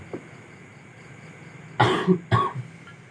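Two short, close coughs in quick succession after a quiet stretch during a religious talk.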